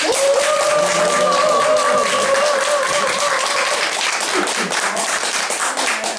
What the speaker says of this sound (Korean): 우리 바람소리 선생님 건강에 대해서 우리 한 박수 한번 쳐드리겠습니다.